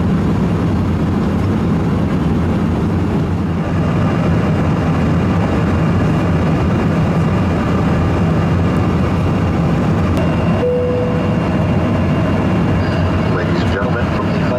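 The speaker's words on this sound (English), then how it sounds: "The GE CF34 engines really impressed me." Steady, loud broadband roar inside the cabin of a Delta Embraer 175 cruising with GE CF34 engines, a constant low rumble and hiss with a brief faint chime or tone near the end.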